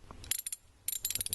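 A 10mm socket on a ratchet removing nuts from an aluminum cover on a GMC Yukon, giving two short bursts of quick, bright clicking close by with a brief gap between.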